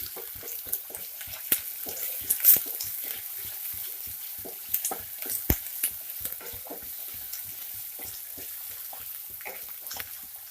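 Fish roe is stirred with ginger-garlic paste in a hot frying pan, giving a steady low sizzle with soft repeated scraping strokes of a spoon or spatula and a few sharper clicks, no voices.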